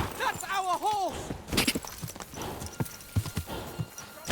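Horse hooves in Kingdom Come Deliverance 2, a run of clip-clopping steps close by, mixed with a brief neigh early on and shouted voices.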